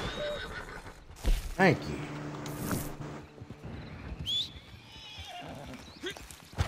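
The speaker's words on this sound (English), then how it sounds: "Knocked me off my damn horse." A horse in a video game neighs loudly once, a rising whinny, amid clattering hoof clip-clops and game noise, while someone talks over it.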